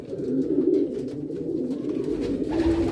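A male homing pigeon coos steadily to a female at the nest, a low throaty rolling call that carries on for the whole stretch, close and fairly loud.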